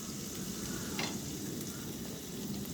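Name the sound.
frying onions with ginger and garlic paste, stirring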